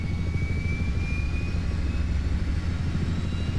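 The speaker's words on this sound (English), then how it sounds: "You do get that starter sound that keeps going" Turbine starter whine of an SH-60 Seahawk helicopter spooling up in a flight simulator game, a steady low rumble with a thin tone slowly rising above it, continuous and without voices.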